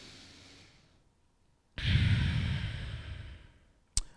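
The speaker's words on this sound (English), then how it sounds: "Last exhale." A single long breath released slowly during a guided yoga floor exercise, a steady broad rush that swells after a quiet pause and holds for about two seconds before fading, close to the microphone.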